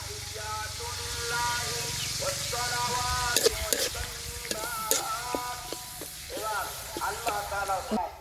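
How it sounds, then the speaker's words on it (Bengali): Chopped onion and garlic frying in a pan with garam masala, a soft, steady sizzle with occasional stirring scrapes, under a voice speaking over the cooking in a village kitchen. "পেঁয়াজ রসুন খুব ভালোভাবে ভেজে নিছি"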